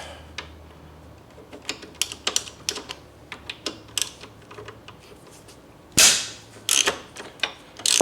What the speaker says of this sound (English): you just give your wrench a good hit and they'll pop them loose. And that's what that snapping noise is.